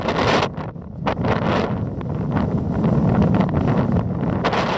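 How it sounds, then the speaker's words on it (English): Gale-force wind buffeting a microphone on high sea cliffs at Downpatrick Head, Ireland, loud roaring gusts with sharp bursts and brief lulls, no voices. "It is blowing a gale and really dangerous because there's hundreds of feet high cliffs."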